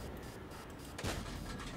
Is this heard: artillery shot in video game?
yes